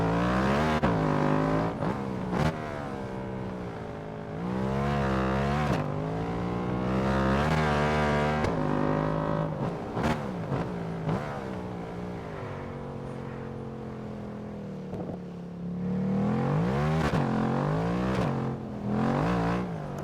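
A Ducati motorcycle engine revs hard while riding, rising and falling through gears in long sweeping pulls with brief lifts off the throttle, loud and close for the whole stretch.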